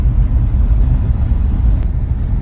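A Tesla Model Y cruising at high speed on a street gives a steady, close cabin rumble of road and tire noise, even and unbroken throughout, with no voices.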